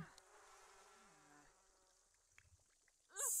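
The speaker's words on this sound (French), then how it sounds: "se faire attaquer par un essaim d'abeilles" In The Sims 4, a swarm of bees attacks a character with a faint, continuous insect buzz that thins out before a sudden loud burst at the very end.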